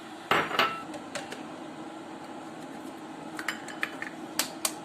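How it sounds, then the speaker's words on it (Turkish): Eggs being cracked and separated into yolks and whites in bowls while baking a rolled cake, heard as a sharp clatter of shell and utensil against dishes followed by scattered light clinks and taps. "Öncelikle yumurtaların sarısıyla akını ayırmakla başlıyorum işe."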